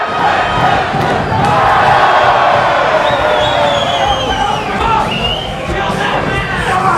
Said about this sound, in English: the crowd is coming alive right now